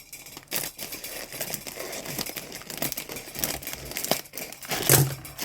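An Indomie instant noodle packet being cut open with scissors, close crinkling and rustling of the plastic wrapper with brief snips and crackles, and a sharper crunch near the end, with no voices.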